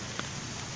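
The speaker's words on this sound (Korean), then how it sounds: "비가 내리네." Rain falling steadily, a dense hiss of drops with one faint tap standing out briefly.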